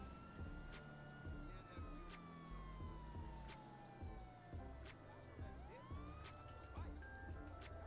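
A police car siren in GTA 5 wails continuously, sweeping up and down, with occasional sharp clicks and background game noise.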